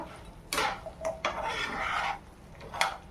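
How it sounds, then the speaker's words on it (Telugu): Batter being stirred and mixed through cauliflower pieces for gobi 65, a close wet rasping and rubbing in several sweeping strokes with short pauses, no talking. "వేసేసుకున్న తర్వాత కలపండి బ్యాటర్ మొత్తం"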